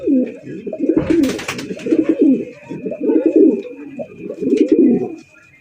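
Domestic pigeons kept for sale coo in close, loud, rhythmic bursts, several throaty phrases in a row with brief pauses between them and faint background noise underneath.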